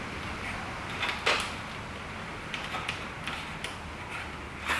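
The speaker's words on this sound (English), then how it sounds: "You flick that lever up there, and you undo the magazine tube. It's on a very coarse thread." The magazine tube of a Chiappa 1892 lever action rifle in .44 Magnum Alaskan is unscrewed on its coarse thread, giving faint scattered metallic clicks and scraping ticks at close range, with no talk.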